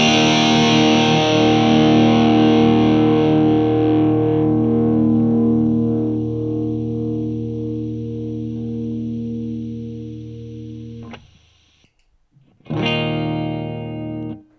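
Electric guitar through a PedalPalFX PAL800 V4 overdrive pedal into a Fender Super Reverb amp, mic'd with a Shure SM57, giving a Marshall-style crunch: a long, loud sustained chord ringing and slowly decaying, a brief silence, then a fresh strummed chord.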